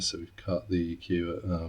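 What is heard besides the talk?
No distinct noise like a dog, phone or traffic.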